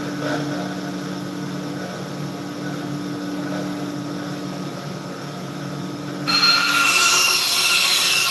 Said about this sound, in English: I'm going to go to the bandsaw and cut the tiniest little slice off of this thing.